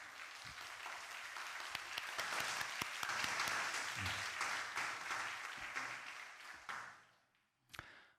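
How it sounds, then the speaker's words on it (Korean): A church congregation at a Korean Sunday service claps to congratulate a newly married couple, a sustained, dense round of applause that holds steady for several seconds before fading out, followed by a couple of isolated claps. "어제 참석하지 못한 분들 우리 함께 축하의 박수를."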